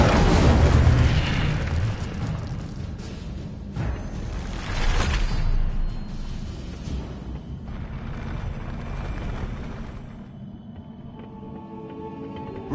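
The Incendio fire spell in Hogwarts Legacy bursts out with booming whooshes, several loud eruptions across the stretch that fade into a softer rumbling tail.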